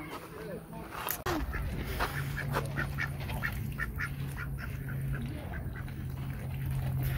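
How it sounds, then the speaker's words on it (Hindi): Ducks quack on a Virginia farm: repeated short calls close by over a steady low background hum, with a brief bump near the start and no clear talk. "डक्स मेरी भी फेवरेट"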